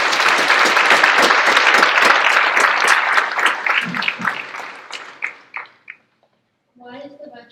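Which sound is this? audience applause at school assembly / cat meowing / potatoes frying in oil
audience applause at school assembly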